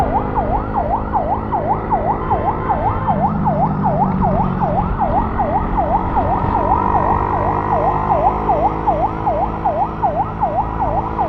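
An ambulance siren wails in traffic, heard close from a following motorbike, with rapid rising and falling cycles repeating steadily throughout over a low engine hum.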